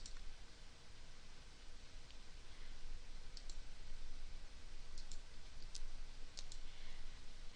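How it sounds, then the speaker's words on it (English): A computer mouse clicks a few times, the sparse, faint clicks spread out over a low, steady background hiss. "right click it, and then click extract here"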